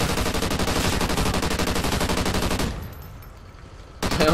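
Pistol gunfire in Call of Duty Ghosts Extinction, a fast, even stream of loud close shots for over two seconds, then a quieter lull before another shot bursts in at the end.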